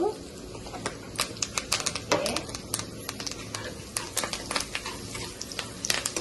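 Curry leaf sprigs crackle and spatter as they fry in hot oil for a tomato omelette curry, with a dense run of sharp, close pops over a steady sizzle.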